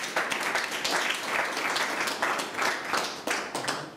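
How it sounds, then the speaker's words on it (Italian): A large audience applauds a film director at a screening event, sustained clapping from many hands carrying on steadily, with a few voices under it. "un applauso al nostro regista"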